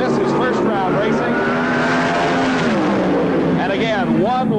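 Funny car drag racers at a 1978 NHRA race roar loud and constant, their engine pitch sweeping upward as the cars launch, while a commentator talks over the noise.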